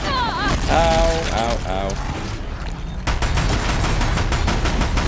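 Deathbringer machine gun from Horizon Zero Dawn opening up in a rapid, sustained burst of heavy automatic fire that dominates the second half, following a man's pained cries in the game.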